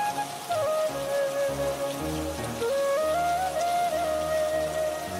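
Steady rain falling in a cartoon scene, a dense continuous patter on surfaces with faint tonal background music running underneath.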